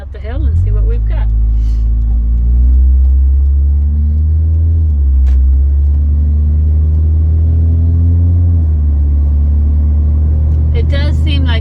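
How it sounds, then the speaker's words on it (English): A 2006 Mitsubishi Outlander climbs a hill under acceleration, its exhaust giving a loud, steady low drone from inside the cabin. The engine pitch rises gradually, dips once, then climbs again. "It does seem like it has a little bit louder exhaust."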